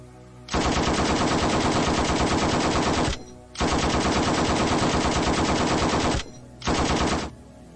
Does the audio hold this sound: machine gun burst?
yes